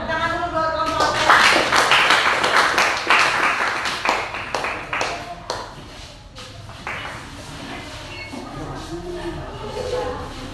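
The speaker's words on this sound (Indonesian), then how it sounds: "Tepuk tangan dulu buat kelompok Alka." A class claps for a student group about to present during a school coaching session, a loud burst of applause that builds, then thins into scattered claps over a few seconds, with some voices underneath.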